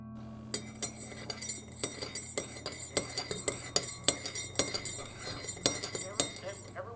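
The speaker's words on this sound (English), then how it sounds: "I'm gonna do the dishes now" Dishes and cutlery being washed by hand, with repeated sharp clinks and clatters of metal and glass over a steady low background hum, close and fairly busy throughout.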